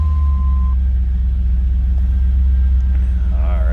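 A 1989 Pontiac Firebird Formula engine idles in a steady, close, loud low rumble, holding an even drone for the whole stretch with a brief faint tone near the start.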